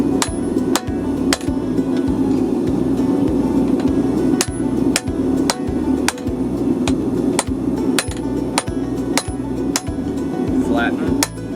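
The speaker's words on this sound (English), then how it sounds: "start hammering down." A cross peen hammer strikes metal again and again while flattening a kitchen knife blade, in a steady, fairly quick rhythm, each blow a sharp ringing clank close by, over a low background hum.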